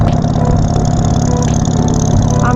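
A 2013 Harley-Davidson Sportster 48 with a 1200cc V-twin runs with a steady, loud, low rumbling throb close by, a continuous even engine note without talk.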